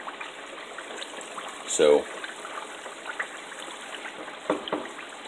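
Lard simmering and cooking down in a pot over heat turned a little high, with some bits stuck on the bottom; a faint, steady bubbling hiss runs throughout, broken by a brief burst of speech.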